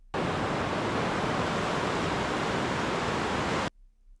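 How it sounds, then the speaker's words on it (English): Steady, loud broadband rush of a river flowing beside the town of Thurmond, West Virginia, continuous and close with no variation for several seconds before it cuts off abruptly. "drenched out by the sounds of the river next to it"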